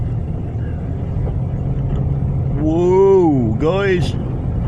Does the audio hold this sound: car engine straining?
yes